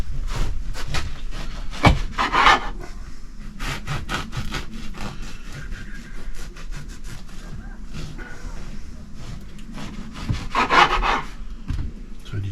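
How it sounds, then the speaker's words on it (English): A knife saws through a fresh loaf of bread in repeated rough strokes, a close scratchy rasping with a few sharper crunches, and no voices are heard. "slice her up. None of this pre-sliced bread."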